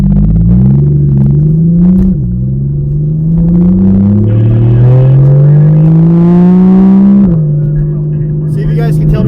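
A car engine runs at a high idle close by, its loud rumble rising and falling in pitch as it revs in several swells, with people talking over it.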